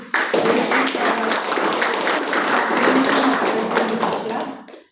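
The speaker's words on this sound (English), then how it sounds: "give a big round of applause to our great president" A Toastmasters club audience applauds its president at a meeting, a dense, steady burst of many hands clapping at once that carries on for several seconds before stopping abruptly.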